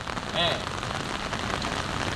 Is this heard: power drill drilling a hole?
no